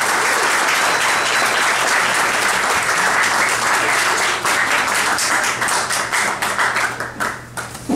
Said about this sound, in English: Let's give a warm round of applause for Tammy Grimes, ladies and gentlemen.